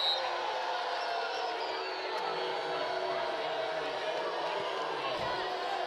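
Basketball crowd at a Wake Forest vs Louisville game reacting to a traveling call: a sustained, fairly distant roar of voices booing and shouting, steady throughout, with commentary running over it.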